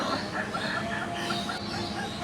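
A local hen settled to lay an egg, clucking softly and continuously at close range, a low murmuring run of short calls with no talk.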